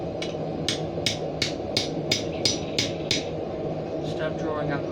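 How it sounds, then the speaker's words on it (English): Repeated ringing strikes of a hammer driving a hot chisel into hot steel on an anvil, about nine evenly spaced blows, close and loud over a steady roaring forge background. "We're getting our hot chisel. We'll start on the point of the leaf."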